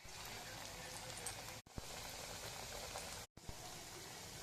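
Potato rolls shaped like French fries sizzle in hot oil, a soft, even crackling hiss that runs steadily and is broken by two brief silent gaps.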